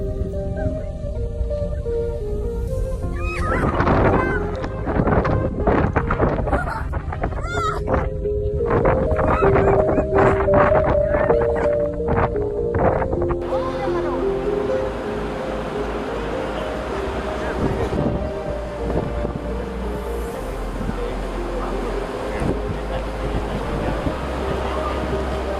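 Ocean waves and wind at sea roar steadily and loudly, with a continuous rushing surf and gusting wind noise beneath intermittent background voices and music.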